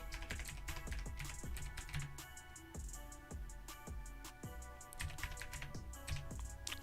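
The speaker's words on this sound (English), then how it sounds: "It's weird typing that." Rapid typing on a computer keyboard, a dense run of close, crisp keystroke clicks with irregular rhythm, heard alone without talk.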